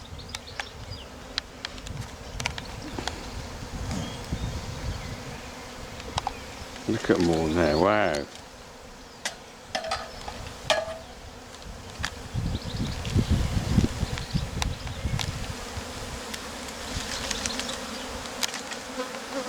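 Thick, continuous buzzing of a large honey bee swarm surrounds the listener, with some rustling and wind noise while a person speaks briefly.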